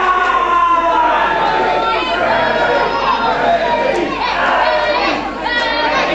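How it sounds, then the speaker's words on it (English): A wrestling crowd cheers for wrestler Freddy Nova in a steady, loud, dense roar of many voices mixed with shouting that fills the whole stretch without a break. "Fans really cheering Freddy Nova."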